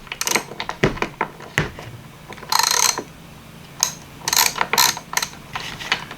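A Craftsman Flying V ratchet clicks in short, sharp bursts of pawl ticks, close and crisp, with brief gaps between strokes.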